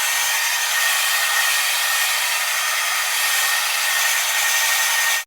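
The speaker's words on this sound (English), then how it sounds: "I'm going to start blow drying it and round brushing it" A hair dryer blows continuously and loudly at close range while a bob is round-brushed dry, a steady airy roar that cuts off abruptly at the end, with no talking.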